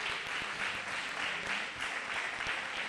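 An audience at a flamenco event claps to welcome Rubén and his father, a fairly quiet, continuous patter of many hands lasting a few seconds.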